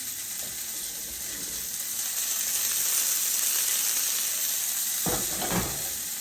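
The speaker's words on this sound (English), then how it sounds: "I want to show you that we're getting a good sear on our pan" Beef tips searing in a hot pan for a hearty beef stew, a steady broadband sizzle that holds close and loud, with a few brief scraping knocks of a utensil near the end.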